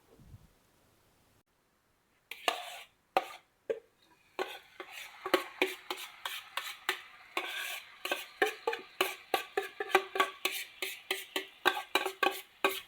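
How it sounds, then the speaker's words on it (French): Marinated bulgogi beef hitting hot sesame oil in a pan, then sizzling and being stirred, with repeated sharp scrapes and clinks of a utensil against the pan in a steady rhythm after a quiet start. "on y met toute la préparation, avec le jus bien sûr."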